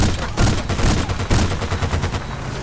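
Rapid automatic gunfire from a vehicle driving through combat in the video game Battlefield: Bad Company 2, loud and close with dense bursts of shots over a rumbling engine bed.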